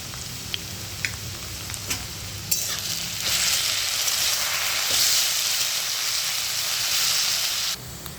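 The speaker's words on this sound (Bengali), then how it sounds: "ফুলকপি আলু ভাজা হয়ে গেছে।" Cauliflower and potato fry with salt, turmeric, dried chilli and five-spice in a pan, a close steady sizzle with a few stirring clicks that swells louder midway, then drops at the end.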